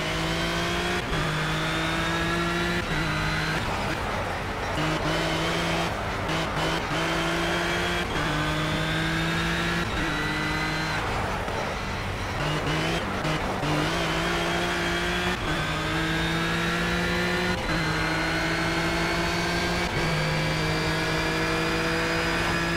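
Renault Sport R.S. 01 GT race car in Project CARS at Monza, its engine note climbing through repeated upshifts in a loud, continuous run of revving and gear changes.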